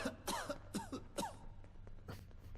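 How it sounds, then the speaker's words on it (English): A character in the video game Fallout London coughs four times in quick succession, then a softer throat-clearing sound follows, fairly quiet and close. "Who's coughing?"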